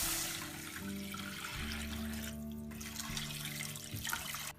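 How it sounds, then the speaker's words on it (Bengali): Water poured into a pan of vegetables and shrimp frying in oil makes a continuous splashing, running-water sound, faint and steady for a few seconds with no talking. "একটু ভাজি করে এর মধ্যে পানি দেবো"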